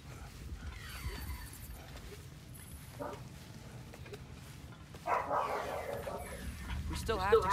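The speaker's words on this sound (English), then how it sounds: "Sorry about my dog in the background." A dog barks and yips in the background of a room while a God of War Ragnarök game plays, the short barks repeating over game sounds and a person talking.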